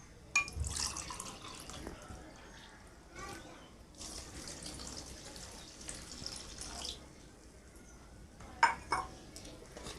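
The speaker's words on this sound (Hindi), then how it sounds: "अब इस शक्कर में हम डालेंगे ये 1 कप भर के पानी का।" A cup of water is poured into sugar, giving several faint splashing and trickling bursts with quiet pauses between them, recorded close in a kitchen.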